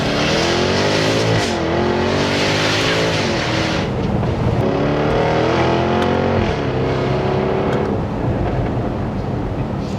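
A loud sports car engine, an Audi R8 or Jaguar F-Type, revs up and down repeatedly, with rising and falling tones and crackling pops from the exhaust between revs.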